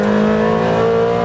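A Ferrari 360 Challenge race car engine revs loudly and steadily, its strong harmonic whine holding high throughout the short burst.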